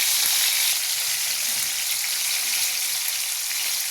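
Several fish fry together in hot oil in a kadai, giving a loud, continuous crackling sizzle with no voices.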